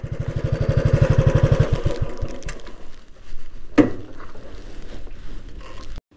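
A motorbike putters along slowly near Khed, Ratnagiri, its close, steady low engine pulse loud at first, then easing off with brief clatters and a sharp knock, running on alone without talk.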